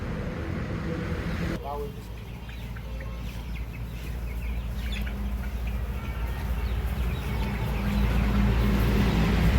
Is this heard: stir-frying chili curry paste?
no